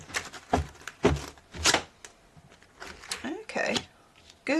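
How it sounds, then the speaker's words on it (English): A tarot deck with a 70s-style design is shuffled by hand in several brisk, papery riffling bursts separated by short pauses, with some talk mixed in. "Just do a bit of a big girl shuffle there."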